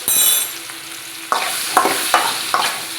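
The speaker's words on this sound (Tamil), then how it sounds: "அழகான கலராக ஃப்ளேவரான மாங்காவை போட்டாச்சு. இப்போ என்ன பண்ணணும்? அதை வறுக்கணும்." Mango pieces frying in a pan for a sweet pachadi, with a steady soft sizzle and a few sharp scrapes of a spoon stirring at irregular intervals, close up and with no talking.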